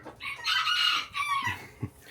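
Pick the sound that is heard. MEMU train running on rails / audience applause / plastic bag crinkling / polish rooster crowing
polish rooster crowing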